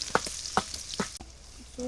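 Curry frying in a pan over a village cooking fire gives a steady, moderate sizzle, broken by a few sharp knocks and clatters like stirring against the pan.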